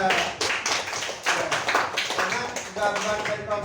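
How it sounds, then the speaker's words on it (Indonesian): A classroom group claps for a collage artwork made by a student group, a dense patter of many hands in quick irregular bursts, fairly close, with a voice briefly over it. "mari kita kasih tepuk tangan untuk kelompok 3"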